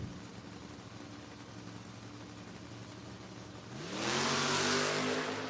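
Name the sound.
drag race launch, Mustang versus Camaro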